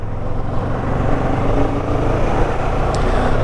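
A CF Moto 650NK motorcycle engine runs loud and steady at high revs in fourth gear, a dense continuous drone close to the microphone with no voices over it.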